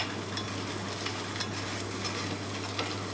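Egg noodles stirred in a hot pan for a street-food-style dish, a steady soft sizzle of frying with faint scraping and light clinks throughout, no talking.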